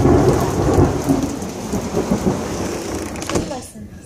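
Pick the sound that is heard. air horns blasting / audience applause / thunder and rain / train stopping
thunder and rain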